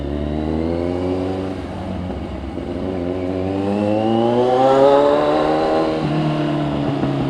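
A CFMOTO 750SRS motorcycle with a red exhaust and breadbox delete accelerates to overtake, its engine note climbing steadily and loudly, then easing off, with no talk.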